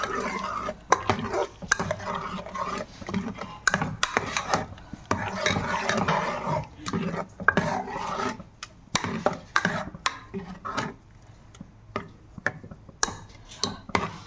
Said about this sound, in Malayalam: നമുക്കിതൊന്ന് ഇളക്കി കൊടുക്കാം.